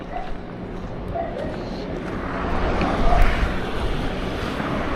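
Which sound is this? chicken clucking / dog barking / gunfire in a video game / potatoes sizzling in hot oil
dog barking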